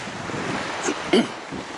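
Breezy coastal wind at Cemaes Bay on the north coast of Anglesey, a continuous rushing buffet of air with surf-like wash and a couple of brief gusts, no speech.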